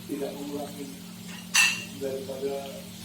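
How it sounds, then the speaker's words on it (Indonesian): A serving plate is clinked and set out in a home kitchen while chicken balado cooks, one bright short clatter of crockery standing out briefly over a steady low hum and soft background noise. "Kita siapkan dulu piring"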